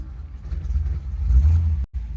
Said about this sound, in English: big, giant Bendix type starters on them that make that funny noise when they start